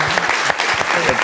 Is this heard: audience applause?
yes